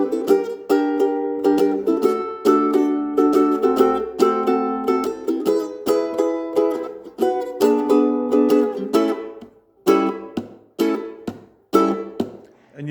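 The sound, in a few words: ukulele playing chorus of a song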